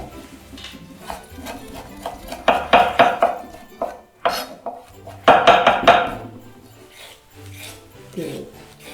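A knife works on garlic cloves on a cutting board, giving irregular bursts of sharp tapping and scraping with brief pauses between, close and fairly loud, with some background noise.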